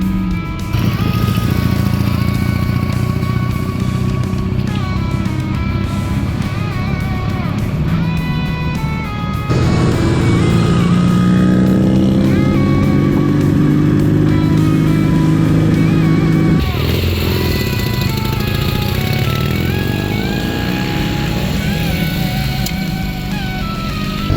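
Dnipro motorcycle engines running loud and close, a continuous rough drone that rises and shifts in pitch as the throttle is blipped, with no speech over the engine noise.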